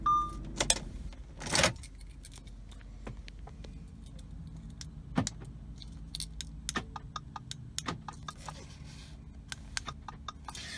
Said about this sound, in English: This is a factory key.